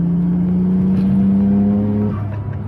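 Steady, droning engine hum of a Nissan RB26 inline-six holding revs, with a rising tone that drops off near the end, close and loud.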